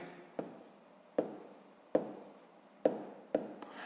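Handwritten numbers for a column multiplication problem on paper: about five short scratchy pen strokes in an uneven rhythm, close and quiet, with no voices.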